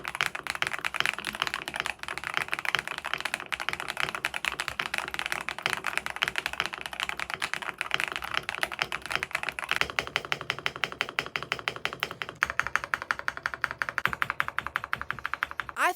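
Mechanical keyboard typing on a Kit Lilith board fitted with LEGO keycaps, giving a dense, continuous stream of close, poppy clacks that changes character slightly partway through, with no talking.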